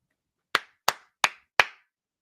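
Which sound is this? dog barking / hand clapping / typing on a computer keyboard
hand clapping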